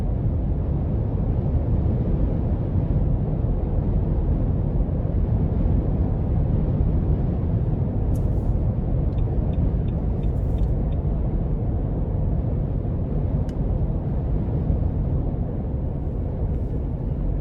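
A 2021 Nissan Armada Platinum SUV accelerates, heard from inside as a steady, loud low engine drone and road rumble with no speech, joined midway by a few faint clicks and ticks.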